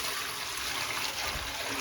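Water pours steadily into the drain of a newly fitted kitchen sink during a leak test, a constant close hiss and splash with no voices.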